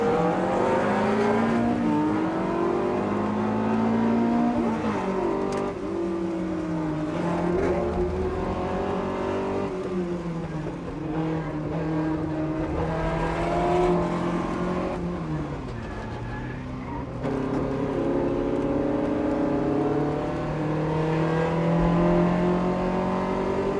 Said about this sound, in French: C'est ici la superbe AC Cobra numéro 15 de Ludovic Caron